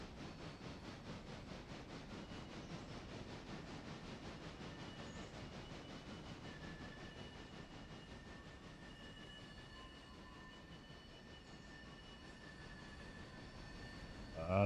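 A train rolling through a curve in a railway video game, its wheels squealing in thin high-pitched tones over a steady low rumble, heard faintly and at an even level with no voices.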